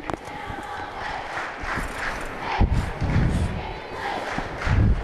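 A packed high school basketball crowd at a girls' 2A state final roars and cheers from the stands in a continuous loud wash, swelling in bursts partway through, with voices blended into the din.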